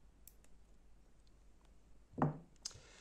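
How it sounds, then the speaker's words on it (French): A single sharp snip as fishing line is cut while rigging a sardine bait for bass fishing, close and fairly loud, after a quiet stretch with a few faint ticks and a small click at the end. "Ici, je vais couper le fil."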